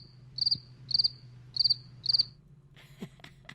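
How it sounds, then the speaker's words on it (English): A real cricket chirps four times in regular, evenly spaced trills, near and clear over a low background hum, followed by a few softer scratchy sounds. "Okay, that's a real cricket."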